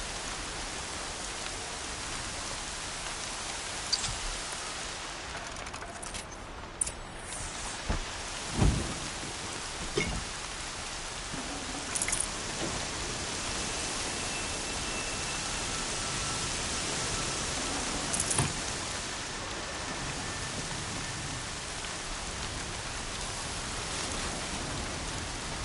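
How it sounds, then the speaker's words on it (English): Steady rain in the video game Horizon Zero Dawn, a constant wash of falling drops with occasional louder patters and distant rumbles, no talking. "Air's heavy with rain."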